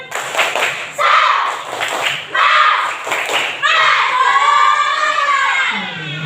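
A school class performs a rhythmic 'tepuk semangat' clapping chant, sharp claps in patterned bursts mixed with children's voices calling along, loud and close, ending in a sustained shouted finish.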